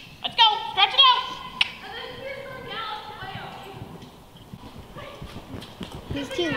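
A horse trots in a riding arena, hooves clip-clopping in a quick rhythm beneath voices that speak close by, with a few sharper hoof strikes early on.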